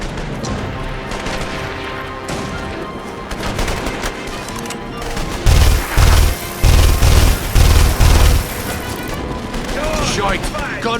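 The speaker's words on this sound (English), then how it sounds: "Shite! Gunfire!" Gunfire in The Saboteur video game, with loud bursts of machine-gun fire and rapid shots crackling through a chaotic battle, heaviest in several pounding volleys midway, mixed with game sounds and voices.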